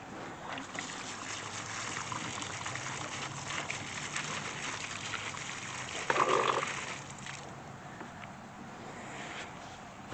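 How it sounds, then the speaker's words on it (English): Newly planted roses being watered in a garden: a steady trickle and splash of water runs for about ten seconds, close and fairly loud, with a brief stronger gush partway through and no talking. "We're just going to water it in."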